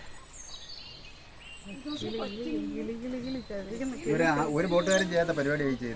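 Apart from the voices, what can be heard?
birds singing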